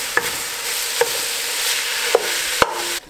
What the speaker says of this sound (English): Okay, so we've got 2 pounds of ground venison here. Throw these in here, break them up.